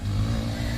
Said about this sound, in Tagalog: Ginalit pa yung motor.